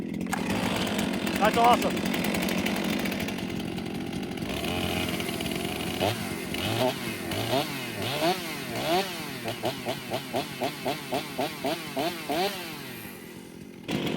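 A STIHL 500i chainsaw starts and runs, its engine first idling then revving in a rapid series of rising and falling bursts, loud and close, with someone speaking briefly.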